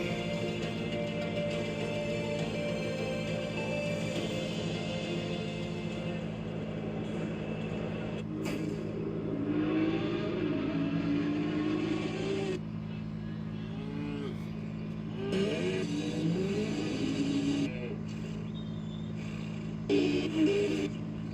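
Indy 500 race cars rolling off at the start, engines droning and revving in waves over a constant low hum, with crowd noise and bursts of acceleration in the second half.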